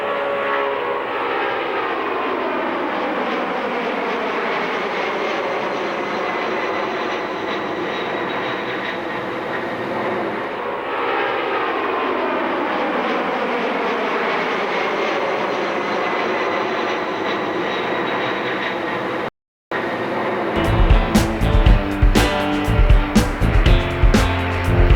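A Lockheed TriStar trijet airliner rotating on takeoff at Los Angeles International gives a loud, sustained jet roar with a shifting whine for about twenty seconds. The sound then cuts abruptly to a brief, different choppy noise.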